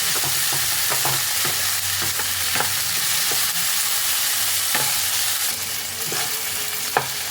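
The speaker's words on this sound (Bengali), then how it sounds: "টমেটো আর কাঁচা লঙ্কাটাকে মিনিট দু তিনেক নাড়াচাড়া করে নিয়েছি" Tomato and green chilies fry in a pan for ghugni while being stirred, a steady sizzle broken by repeated sharp spatula scrapes and taps against the pan, close and alone with no talking.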